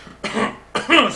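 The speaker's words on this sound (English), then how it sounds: "I started an actual cough in that." Two harsh coughs close to the microphone, separated by a short pause, with no speech around them.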